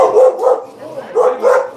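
Puppy barking close by in a home, a string of four or five loud, high yappy barks in quick uneven succession.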